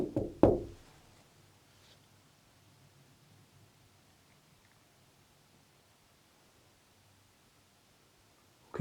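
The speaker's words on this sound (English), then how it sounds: "Can you knock?" Two or three quick knocks land close together right at the start in a quiet room during a paranormal investigation at a pub, followed by long near-silence and another faint thump at the very end.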